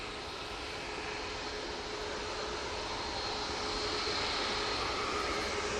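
A Boeing 787 Dreamliner on final approach to Manchester Airport's runway 2 right, just below low cloud, gives a continuous broad jet roar that builds slightly louder over several seconds.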